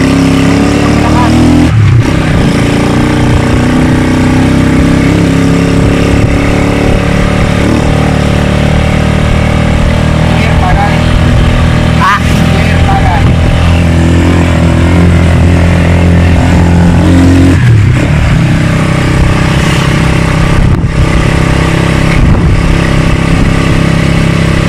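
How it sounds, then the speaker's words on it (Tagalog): Loud Rusi 175 motorcycle engines rumble and rev nearby, droning continuously as the bikes pull away, with voices mixed in. "bibidyohan natin yung pag-alis natin mga motor"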